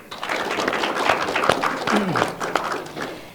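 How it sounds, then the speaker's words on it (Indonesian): A studio audience at a televised education dialogue forum in Banten claps in a moderate, uneven burst, with scattered taps and faint voices mixed in, swelling briefly then tapering off. "Boleh tepuk tangan kembali."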